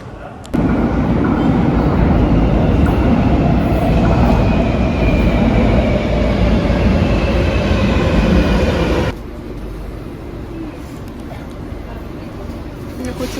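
A metro train rumbles loudly and steadily through a tunnel for several seconds, then the roar cuts off abruptly, leaving quieter station hum.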